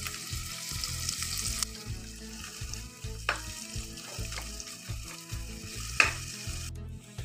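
Urad dal and onion sizzle steadily in hot oil for a Telugu beans curry, a close, continuous frying hiss with stirring scrapes and no talking.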